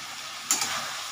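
Katla fish curry with potatoes, cauliflower and green chillies is stir-fried in a pan, giving a low, steady sizzle with a brief scraping stir near the middle, faint and without voices.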